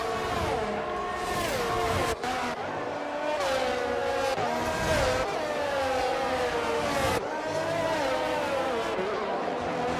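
Racing cars roar through a racing video game on a Canada circuit, engines whining and shifting pitch as they accelerate and brake, with tire squeal, loud and continuous under a commentator's occasional speech.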